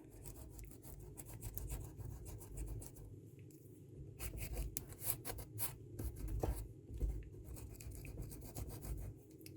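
A rubber eraser rubs against a leaking scooter tire rim, giving a steady, close raspy scrubbing with bursts of quicker strokes that continues throughout.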